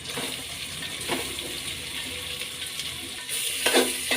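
Chopped onions sizzling in a hot pan for a pea and mushroom stir-fry, a steady close frying hiss with a few louder crackles and a brief stir toward the end, no talk.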